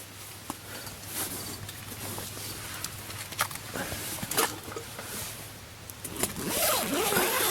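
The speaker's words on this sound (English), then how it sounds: "Zip up the tent, call it a night." A tent zipper pulled closed at night while stealth camping on a lighthouse island helipad, several rasping zip strokes over a steady low hum and faint rustling, close and fairly quiet.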